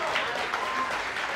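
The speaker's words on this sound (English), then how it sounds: "Is that the applause, Miz? Applause, please." A short burst of scattered clapping and crowd noise from an audience, steady and moderately loud for the whole moment.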